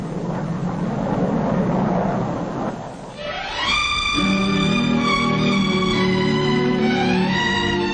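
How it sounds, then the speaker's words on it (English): A 1958 Pan Am passenger jet clipper's engines rumble and then rise into a loud, whining roar that holds steady and close, with no talk over it. "The first passenger jet clipper to fly the Atlantic."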